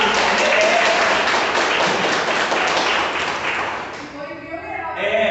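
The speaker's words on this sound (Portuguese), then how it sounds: "Palmas para a Leslie, vamos lá" Audience applause at a Bible study gathering, a dense burst of clapping for a winner that fades after about four seconds as voices take over.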